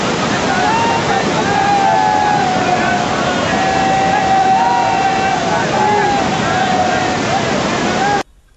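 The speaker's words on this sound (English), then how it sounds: "It was extremely difficult to cross the river through the high current of water." River water rushes loudly beneath a bridge crossing on the trek to Gomukh, a constant roaring wash of high current, close and steady, with faint voices mixed in before the sound cuts off abruptly.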